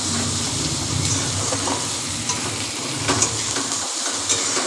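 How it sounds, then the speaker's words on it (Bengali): Chopped onions fry in a pan for a soybean and potato curry, a steady close crackling sizzle with occasional stirring scrapes, no talking. "পেঁয়াজটাকে এবার আমি লাল লাল করে ভেজে নেব"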